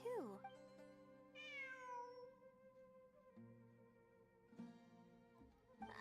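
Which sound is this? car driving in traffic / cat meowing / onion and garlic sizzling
cat meowing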